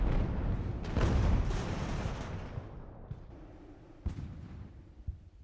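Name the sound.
artillery fire in Ultimate Admiral: Age of Sail video game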